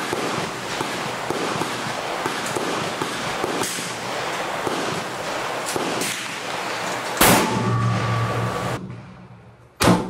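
A .308 rifle fitted with a Zerotech Thrive HD scope fires a few sharp shots outdoors, each a sudden crack against steady background noise, with a final loud report at the very end.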